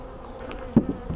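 Honey bees hum steadily during a beehive inspection, a close continuous drone with a couple of brief louder passes near the microphone.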